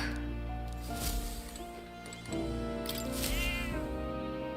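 A cat meows in the fantasy role-playing video game Metaphor: ReFantazio, several drawn-out rising meows over steady game music, with no talking.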